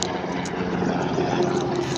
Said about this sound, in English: Thank you very much, helicopter.